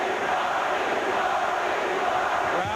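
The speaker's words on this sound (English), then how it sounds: "Crowd chanting Marley's name." A basketball arena crowd chants a player's name during an NBA playoff game, a dense, roaring wash of massed voices holding steadily loud throughout.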